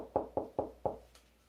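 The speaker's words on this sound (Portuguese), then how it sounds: "E Pedro então sai correndo, e quando Pedro chega lá na casa de João Marcos, Pedro bate na porta" Four sharp knocks on a door in a steady rhythm, close and clear, then a faint tail and quiet, with no voices.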